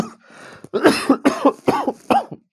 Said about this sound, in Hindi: खांसी आ जाता है बहुत बोलते बोलते